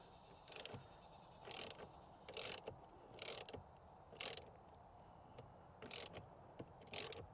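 A ratchet tightens the steering wheel bolt on a Ford Raptor steering wheel install in a Ford truck, giving short bursts of crisp, quiet clicking strokes repeated in a steady, uneven rhythm with pauses between pulls.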